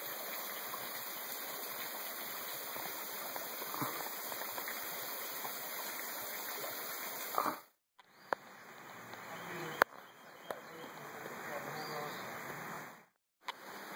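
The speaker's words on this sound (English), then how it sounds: "Kirk Jackman, little waterfall up here." A small waterfall on a creek near the Buffalo River rushes in a steady, close, broadband wash of water, with faint insect chirps behind it and two brief dropouts.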